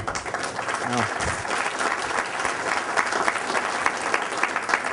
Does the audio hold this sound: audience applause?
yes